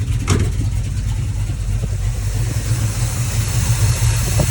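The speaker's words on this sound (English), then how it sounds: "The motor's warming up. Speed will increase." An old Buick barn-find car's engine runs and warms up, a loud, steady low rumble close by with no talk over it.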